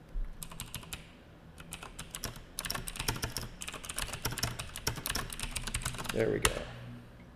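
Fast, uneven typing on a computer keyboard during game engine programming, close clicking keystrokes in bursts with short pauses, a quiet voice murmuring underneath.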